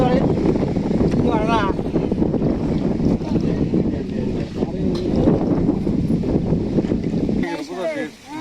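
A boat crosses a river in strong wind and rough, wavy water. Loud, continuous wind buffeting roars over the motion, with voices faintly underneath.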